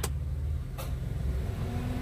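A Karimun Wagon AGS engine idles with a steady low rumble as the AC is switched on. Two short clicks come near the start, and a faint hum joins the idle partway through.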